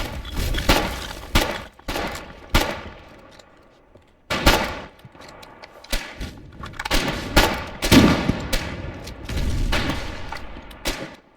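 Gunfire in the war game Foxhole, a string of sharp shots and bursts with some booms, irregular and fairly loud with brief gaps between volleys.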